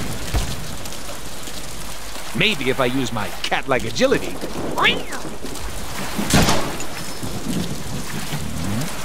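Rain and a thunderstorm in the Deadpool video game make a steady wash of rainfall with a sharp thunder crack, all under someone talking.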